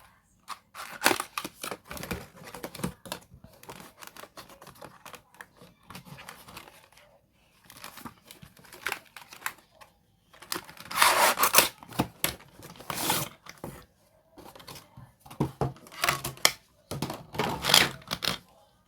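A Rubik's cube being unboxed, with intermittent bursts of close crinkling, tearing and rustling packaging separated by brief quiet gaps, no talking.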